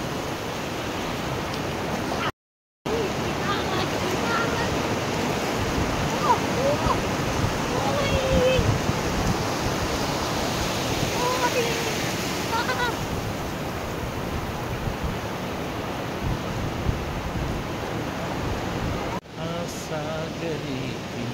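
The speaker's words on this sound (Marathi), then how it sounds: "लाट आली, लाट आली," Sea waves break and wash continuously on the shore in a broad, steady roar, loud and near, with voices faintly mixed in.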